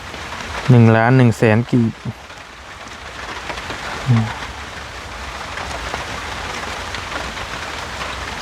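Steady rain falling in a continuous hiss outside a house, with a person speaking loudly near the start and a brief voice later under the downpour.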